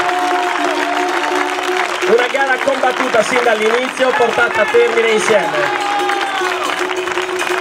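Audience applause at the Villacidro Skyrace 2018 award ceremony, steady clapping running throughout beneath someone speaking Italian over a microphone.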